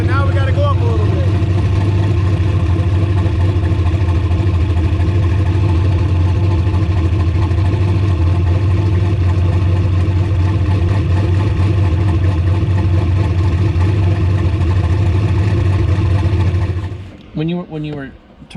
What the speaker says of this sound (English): When you were turning it up and then the motor kicked up, you heard it kick up.